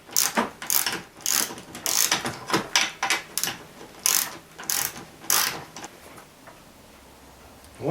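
A ratchet clicks in quick bursts while runners are taken off an upturned truck seat, close and sharp, with irregular pauses between strokes and a quieter stretch near the end.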